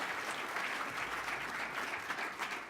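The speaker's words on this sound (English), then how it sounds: "Give him a great round of applause if you would, okay?" An audience gives a sustained round of applause at a governor's public event, steady dense clapping filling the whole stretch with no voices over it.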